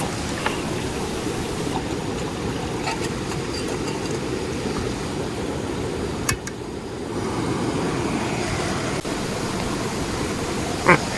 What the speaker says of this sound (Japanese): 川の音心地いいんですが